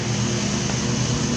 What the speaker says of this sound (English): That's actually a lawnmower that I'm hearing.